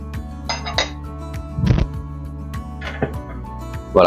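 Lid set on a cooking pot of Senegalese chicken rice left to steam. Close metallic clinks and a clattering clank of pot and lid over a steady low hum, with a few lighter taps after.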